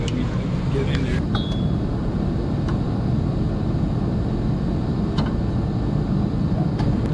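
A diesel engine with worn-out belts and a failing fan clutch runs in a steady, loud, dense rumble, with a few faint metallic clinks and a brief whine over the continuous drone.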